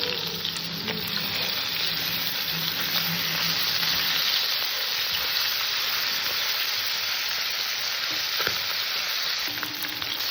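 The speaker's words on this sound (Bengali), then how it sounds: "তেলটা গরম হয়ে গেছে মাছগুলো ছেড়ে দেবো মাছটাকে সুন্দর করে ভেজে নেব" Tilapia pieces fry in hot oil with a continuous, even crackling sizzle that holds steady throughout and carries a few faint clicks. No one talks.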